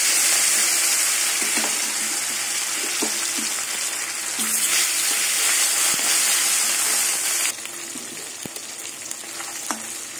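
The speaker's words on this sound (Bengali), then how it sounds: "তেল গরম হয়ে গেছে, এবার মাছ তেলে ভেজে নেব।" Bhetki fish frying in hot mustard oil in a pan, a loud, steady sizzling hiss with faint crackles and occasional soft clicks, alone without talk.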